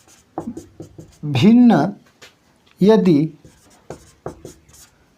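Handwritten notes on fractions being written during a Hindi maths lesson for teacher-exam preparation, with light scratching strokes that sit mostly beneath a man's steady speech.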